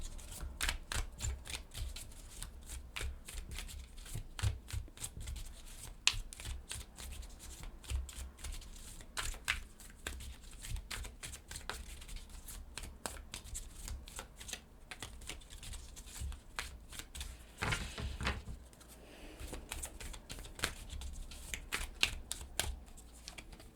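Oracle cards are shuffled by hand in quick, crisp bursts of riffling and slapping, close and fairly quiet, repeating irregularly with short pauses throughout.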